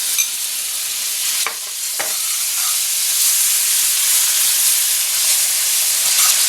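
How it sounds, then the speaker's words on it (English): Pheasant thigh sautéing in butter over medium-high heat in a pan, a steady close sizzle and hiss running throughout with a couple of brief stirring clicks. "So now what we're going to do is we're going to saute this thigh."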